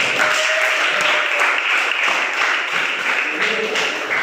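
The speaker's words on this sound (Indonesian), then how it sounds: "Tepuk tangan buat Barang" Classroom applause for a student during a lesson, a group of children clapping in a lively, fairly even patter that stays moderately loud throughout.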